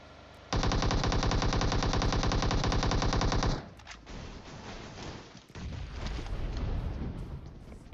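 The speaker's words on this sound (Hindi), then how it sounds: "उस बंदे की MK14 मैं चुरा लेता हूं बिल्कुल, और इसी गन से यार बंदूक की बुरी तरह पेटी बनाएंगे" Gunfire from an MK14 rifle in the mobile game PUBG Mobile: a loud, rapid stream of shots rattling for about three seconds, then quieter scattered game noise and shuffling.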